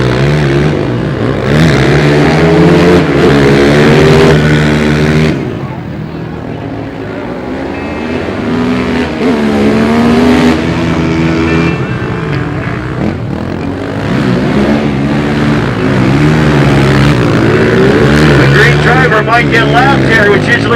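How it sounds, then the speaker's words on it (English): Extreme quad bikes race round and round an arena course at a monster truck night in Markham, engines whining and revving continuously over a loud crowd while an announcer talks. "the extreme quad races when they continue to go round and round"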